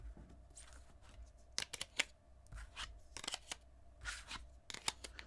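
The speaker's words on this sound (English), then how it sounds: "we'll see how many cards we can fit into this case." Cards slid one after another into a Galaxy S25 Plus card holder case, quiet close scraping and plastic clicks in irregular short bursts with brief pauses between.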